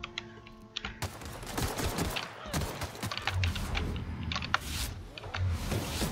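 Mortar fire in The Outer Worlds video game: a dense, crackling barrage of repeated blasts with a few deeper booms, fairly close and loud, running steadily throughout.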